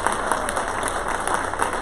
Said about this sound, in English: Please give them a giant round of applause.